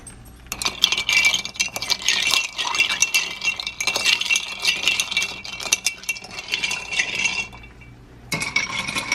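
Ice rattles and clinks busily in a glass as a Hippopotamai cocktail is stirred by hand without a shaker, a near, continuous jangling that pauses briefly near the end.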